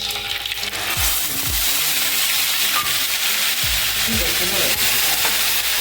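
Ground onion paste with whole spices sautéing in a pan for a paneer mushroom gravy, a steady close sizzle and frying hiss running throughout with a few low clunks of stirring.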